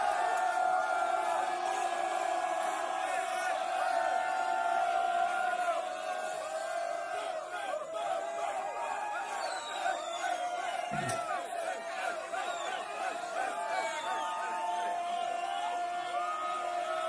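A rap battle crowd between Gunfingers MCs rounds roars and cheers in a sustained, dense wash that stays loud throughout, with whoops and shouts rising out of the noise.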